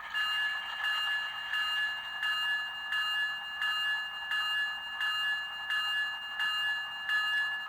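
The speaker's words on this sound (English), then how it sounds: "F1 is going to be our bell." Electronic bell of a model ES44 locomotive, a Graham White E-bell sound, ringing in an even, rapid rhythm, a bright repeated ding about every two-thirds of a second, clean and steady.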